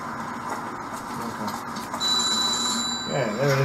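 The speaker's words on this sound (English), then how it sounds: "I heard a phone ring." A telephone rings inside a 1940s New York crime video game, a repeated electronic trill sitting among busy game ambience and background noise, with a voice briefly speaking near the end.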